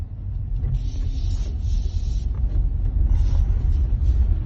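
Tesla Model Y on snow tires braking on a snowy road: a steady, close low rumble of tires and cabin road noise that continues without a break and swells slightly near the end.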